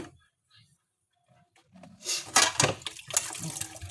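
Running water splashes and clatters against dishes after a quiet start, with rinsing and scrubbing noises continuing steadily.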